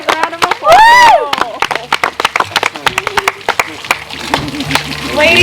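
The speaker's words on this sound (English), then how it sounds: "round of applause." Wedding guests at a Nevada winery ceremony clap for the newly pronounced couple, a scattered burst of nearby hand claps mixed with voices, cheers and a high whistle.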